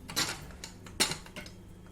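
Utensil clinks and scrapes against a dish while beef is mixed with lemon, salt, turmeric and ginger garlic paste, a few faint scattered taps and rattles, close by, with no talk.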